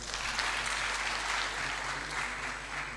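An audience at a graduate research policy forum closing ceremony applauds its presenters, a dense, steady wash of many hands clapping at moderate distance for the whole stretch.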